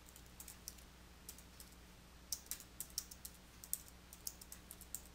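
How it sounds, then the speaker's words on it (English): Typing on a computer keyboard, a quiet run of light, irregular key clicks at close range over a faint steady hum. "Click at that point where you want to begin typing, and then type your text."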